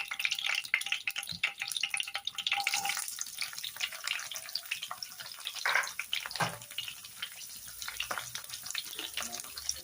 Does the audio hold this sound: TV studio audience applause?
no